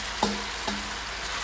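Food frying in a pan over a flame, with a steady broadband sizzle throughout and two brief stirring scrapes near the start; no one speaks.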